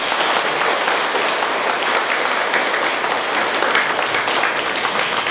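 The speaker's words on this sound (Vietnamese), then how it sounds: "chúng ta cùng nhau cảm ơn các ngài bằng một tràng pháo tay thật rộng" A parish congregation gives sustained, dense applause at a church anniversary celebration, an even roar of many hands clapping with no talk over it.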